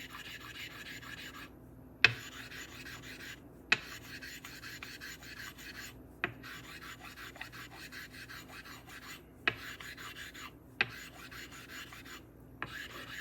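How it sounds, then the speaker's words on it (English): One Japanese sharpening stone is rubbed back and forth on another to build slurry, a steady gritty rasping in long strokes broken by brief pauses and small knocks, close and alone. "This rubbing one stone onto another"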